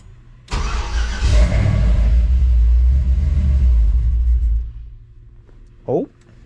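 A 6.0 diesel-swapped OBS Ford truck engine cranks and fires up with a sharp start, then settles into a loud, deep rumbling idle for several seconds before it cuts off, followed by a brief voice.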